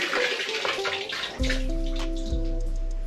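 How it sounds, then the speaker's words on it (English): A shoe is lifted out of a bucket of water during shoe dyeing, with splashing and trickling water that turns louder and fuller midway, close up and with no talk. "Take this other shoe out of the first water bucket"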